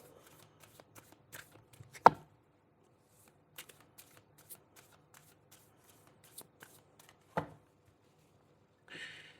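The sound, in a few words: tarot cards being shuffled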